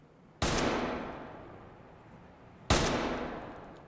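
Two single rifle shots in the tactical shooter Ready or Not, each a sharp loud crack followed by a long fading echo tail, spaced a couple of seconds apart.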